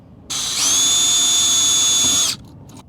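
Power drill boring a 7/64 hole into a Ford Raptor front bumper, a single loud, steady whining burst of about two seconds that spins up and stops cleanly, alone.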